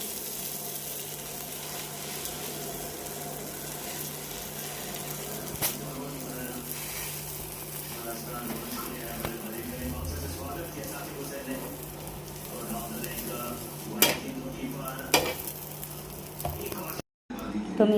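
Pav bread toasts in butter on a hot pan for pav bhaji, a soft steady sizzle that runs throughout, with a few light clinks and stirring scrapes and a voice talking now and then.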